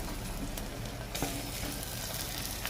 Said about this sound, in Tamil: வெங்காயம் நல்லா கொஞ்சம் நேரம் வதங்கட்டும்